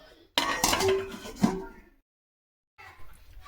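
A metal lid clatters onto a cooking pot of malai kofta curry gravy, with a busy burst of clinking pot and utensil sounds, then a sudden silence before faint kitchen noise resumes.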